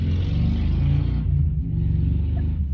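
A heavy truck rumbles past nearby, its low engine drone loud and steady throughout before easing slightly toward the end, with no talking over it.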